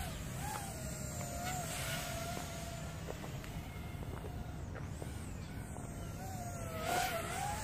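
An FPV drone on Nazgul T3061 tri-blade propellers whines continuously at a steady distance, its pitch rising and falling as the throttle changes, with no talk over it.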